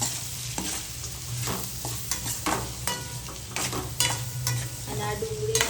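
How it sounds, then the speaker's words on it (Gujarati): Finely chopped onion sizzles steadily in a pan, stirred with repeated scraping strokes of a spoon, close and alone with no voices. "આ ડુંગળીને આપણે ત્યાં સુધી હલાવતું રહેવાનું જ્યાં સુધી ડુંગળી એકદમ બ્રાઉન કલર ટાઈપ ના થઈ જાય"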